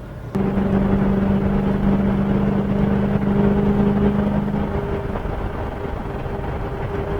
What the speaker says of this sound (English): All right, we're driving down the road. We're going 60 miles an hour.